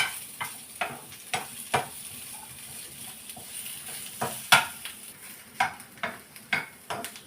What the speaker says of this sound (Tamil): நல்லா இந்த மெத்தடில் தான் நம்ம வந்து ஃப்ரை பண்ணணும்.